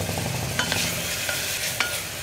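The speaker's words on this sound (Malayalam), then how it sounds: "ഈ ഉപ്പും കൂടി ചേർത്ത് നന്നായിട്ട് ഇളക്കി കൊടുക്കുക" Onions with salt stirred in a pan on the stove, a continuous close scraping and sizzling with a few sharper clinks of the spoon against the pan, no voices.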